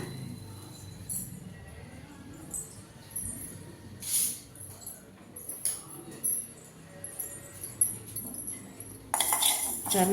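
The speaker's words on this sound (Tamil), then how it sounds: "வெந்தயத்தை வந்து இப்போ போட்டு நான் வறுத்துக்கிறேன்" Fenugreek seeds dry-roasting in a kadai for mango pickle, heard as scattered light metallic clinks and scrapes of a spoon against the pan, with a brighter burst near the end and no talking.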